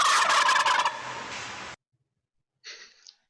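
A wild turkey gobbles in a loud, rattling burst lasting nearly two seconds, then after a pause a shorter, fainter gobbling call follows, with no one talking.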